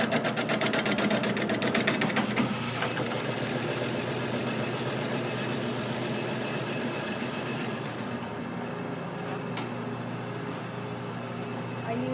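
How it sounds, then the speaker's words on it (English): A metal spinning lathe runs steadily while a pewter bowl spins on it, giving a continuous close mechanical drone with a fine rhythmic rattle and no pauses. "once I start my lathe, the first thing I'll do will be to center it"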